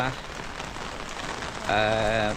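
Heavy rain pours steadily onto surfaces in a village, a dense continuous hiss close by that swells louder toward the end.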